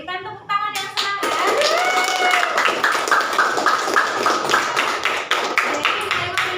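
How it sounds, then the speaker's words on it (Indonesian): Classroom applause for the winning student group, a loud, dense burst of clapping from many hands that starts abruptly and carries on steadily to the end, with a brief voice right at the start. "Berikan tepuk tangan yang semangat."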